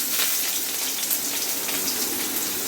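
Fish belly pieces frying in hot oil give a steady, dense, bright sizzle that holds evenly throughout, close and fairly loud with no talking.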